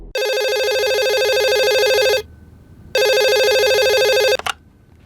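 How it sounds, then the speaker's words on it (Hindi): A telephone rings loud and close in two long electronic bursts separated by a short pause, followed by a brief click, with no voices. "हेलो सर, वो बल्लू का फोन आया था।"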